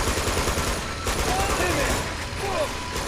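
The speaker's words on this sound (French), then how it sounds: "C'est lui le sniper qui me snipe depuis tout à l'heure." Sniper and other gunfire in the video game Uncharted 2: Among Thieves, sharp bursts over a loud, dense game soundscape.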